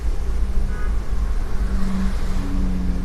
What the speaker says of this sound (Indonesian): Nah ini truk ini bawa pasir dari Nagreg sana